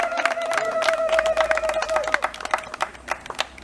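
Clapping and cheering from a crowd honoring the Flatbridge divers at an Ambassador for Peace award event, rhythmic hand claps under a sustained tonal voice or horn, growing more scattered toward the end.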